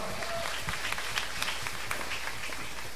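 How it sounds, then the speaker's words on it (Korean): A church congregation applauds during a fasting prayer meeting in a steady, dense patter of clapping hands, sustained throughout with no break. "하나님께 박수 돌립니다"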